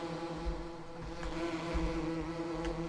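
Bees buzzing around beehives in the Farming Simulator 17 game, a steady faint hum with a low droning tone that persists without pause.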